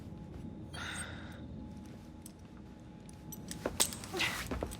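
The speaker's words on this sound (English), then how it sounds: "Now hand over your keys." Keys are handed over in the Assassin's Creed Syndicate video game: a brief, faint metallic jangle near the end of the clip over a low ambient game background, with some breathing and light movement sounds.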